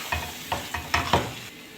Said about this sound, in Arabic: واقلب عصير الليمون مع السلطة بالشكل ده، ادمجهم مع بعض